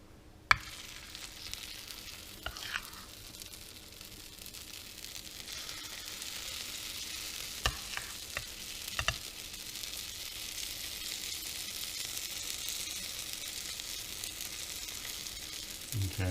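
Egg mixture for a cheeseburger chaffle cooks in a mini waffle maker, giving a steady faint sizzle with a few soft clicks and taps, no talking.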